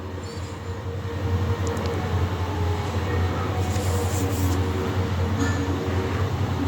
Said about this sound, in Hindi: और एक मालगाड़ी जो दिल्ली की तरफ जा रही है।